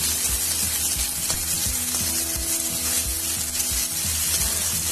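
Onions sizzle in hot oil in a kadhai for an Assamese fish curry, a steady broadband frying hiss with occasional soft stirring thumps and clinks, close and continuous with no talk.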